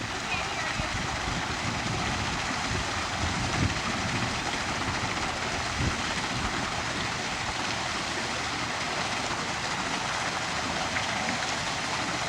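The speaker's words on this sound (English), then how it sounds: "Nobody can hear me because the sound of the waterfall is too strong." Waterfall at the San Diego Biltmore Estate, roaring as a loud, continuous broadband rush of falling water with no pauses, filling the whole stretch and swamping everything else.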